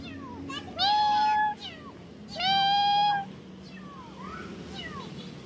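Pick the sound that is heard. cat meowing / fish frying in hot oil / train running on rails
cat meowing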